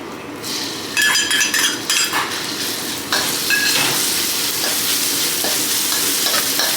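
Chili and garlic stir-frying in hot oil, a loud close sizzle that builds and holds steady, with a spatula scraping and clinking against the pan throughout.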